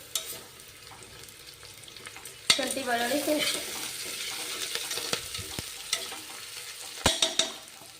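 Onion with ginger garlic paste frying in a pan for tomato biryani: a steady sizzle that jumps louder as the paste hits the hot oil, with a spoon stirring and a few clinks of utensil against the pan.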